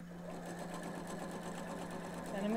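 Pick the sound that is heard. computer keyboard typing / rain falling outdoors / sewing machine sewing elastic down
sewing machine sewing elastic down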